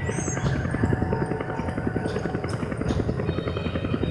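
A helicopter in the Resident Evil 5 video game throbs with a steady rotor chop, a rapid pulsing beat under game effects and occasional faint metallic sounds.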